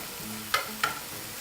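Soft continuous sizzle of food frying in a pan on medium to low heat, with two light clinks of a utensil against the pan and no voices.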